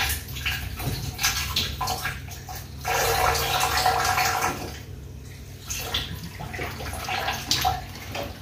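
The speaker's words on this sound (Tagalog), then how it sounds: "Daming tubig." Water runs steadily into a very dirty, clogged bathtub that is not draining, a close, continuous rushing splash that swells louder midway and then eases.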